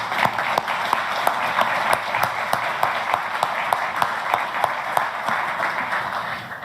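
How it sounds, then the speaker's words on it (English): A crowd applauds steadily at a diplomatic ministerial meeting of an anti-ISIS coalition, welcoming Iraq's foreign minister with dense, sustained clapping and a few sharper individual claps standing out. "Let's give him a round of applause."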